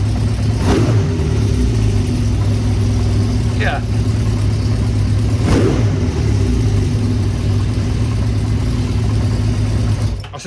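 Honda Diversion 600 motorcycle engine running steadily after a carburettor balance and shim work, a loud close idle with a couple of brief throttle blips, with someone talking over it.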